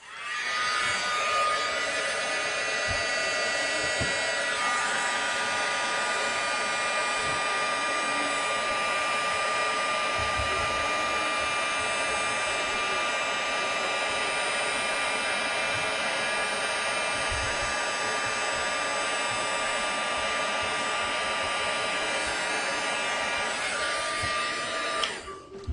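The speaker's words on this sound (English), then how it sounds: "I'm just going to hit this with my heat tool real quick" A heat tool melts silver embossing powder on a card, blowing a loud, continuous, steady whir like a hair dryer close by for the whole stretch, with faint handling noises underneath.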